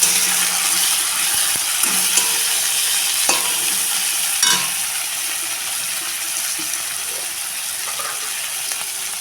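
Chopped tomato goes into a pan of softened onions and fries with a constant loud sizzle, broken by occasional scraping stirs of a spoon close up. Nobody speaks.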